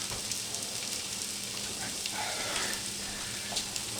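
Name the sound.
potatoes frying in beef fat, being mixed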